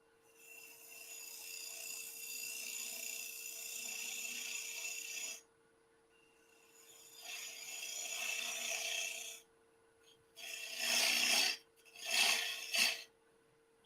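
A woodturning tool cuts a tenon on a spinning lathe, giving a scraping hiss over the motor's steady hum in several passes, two long and then a few shorter bursts with pauses between.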